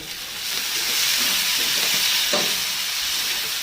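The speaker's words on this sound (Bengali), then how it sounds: "চিড়ে রাখা কাঁচা লঙ্কা, সামান্য একটু জল।" Slit green chillies and ginger paste frying in oil as a little water is added, producing a loud continuous steamy sizzle with a brief stir or scrape near the middle.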